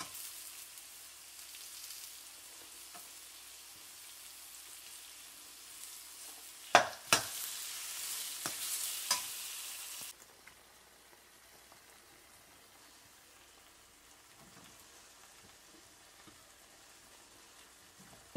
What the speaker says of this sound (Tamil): வெங்காயம் நல்லா வதங்கின உடனே அதில் அந்த மூணு தக்காளி, நறுக்கி வச்சுருக்கிற தக்காளியை போட்டு வதக்குங்க